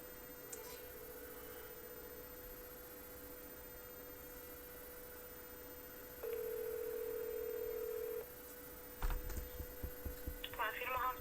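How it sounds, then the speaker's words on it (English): Phone call to an animal hospital: steady dial tone, then a louder ringback burst for about two seconds, followed by keypad or handling clicks and a brief high chirp near the end, with a faint hum throughout. "let me call them right now and see if they even answer the phone"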